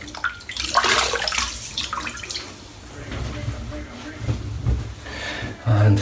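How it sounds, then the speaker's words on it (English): Water splashed over the head in the bathtub to wet it before a head shave, uneven sloshing and dripping close by, with a voice talking over it. "So let's wet the head."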